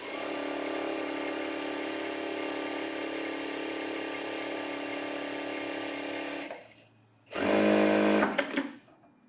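A sewing machine runs steadily while stitching synthetic blouse fabric, its loud continuous whir holding for several seconds, cutting out briefly, then resuming in a short final burst.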